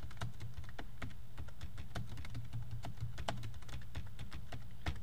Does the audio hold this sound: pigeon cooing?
no